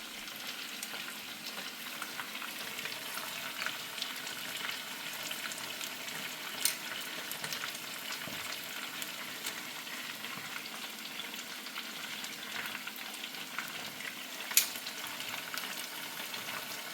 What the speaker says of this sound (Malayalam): അപ്പോൾ നമ്മുടെ ചിക്കൻ്റെ ഒരു ഭാഗം വെന്ത് വന്നിട്ടുണ്ട്. ഒന്ന് തിരിച്ചിട്ട് കൊടുക്കുകയാണ്.